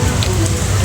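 Heavy rain pours down during a bicycle ride in Vietnam, a brief, loud, dense patter close by.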